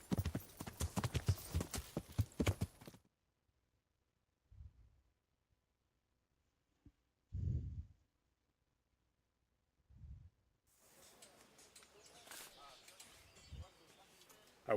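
Horse hooves clip-clopping in the video game Kingdom Come: Deliverance, a quick rhythmic run of clops at the start, then near silence broken by a few soft thuds and a faint wash of ambience near the end.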